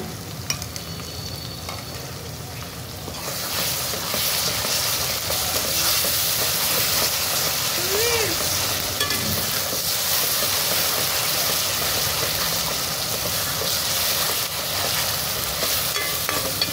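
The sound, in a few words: ginger garlic paste frying in a pan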